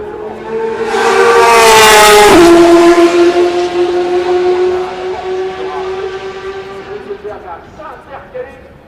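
Race cars including a Ferrari roar past at the start of the 2015 24 Hours of Le Mans, one loud engine pass rising and falling in pitch, with an excited commentator talking over it.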